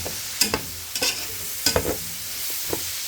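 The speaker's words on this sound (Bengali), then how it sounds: "4-5টা এলাচি, কয়েকটা লবঙ্গ, 8-9টা গোলমরিচের গুঁড়ো আর 3টা দারচিনি দিয়ে আমি এগুলোকে মিক্স করে নিচ্ছি" Whole spices (cardamom pods, cloves, peppercorns and cinnamon sticks) stirred together in a pan while cooking spicy chicken tehari, giving several distinct scraping, clattering strokes against a background hiss of sizzling, with no voices.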